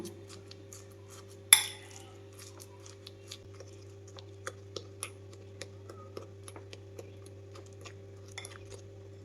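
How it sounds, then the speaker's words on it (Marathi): Jaggery and banana being mixed in a bowl with a spoon, giving a string of light, soft clinks and scrapes spread across the stretch, one sharper knock near the start, close and quiet over a steady low hum, no talking. "गूळ आणि केळ हे बघा असे मिक्स करून घेते"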